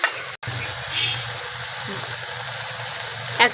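Green chilli and tomato sautéing in a pan give a steady close sizzle and frying hiss with a few stirring clinks, one brief cut near the start, and no talking.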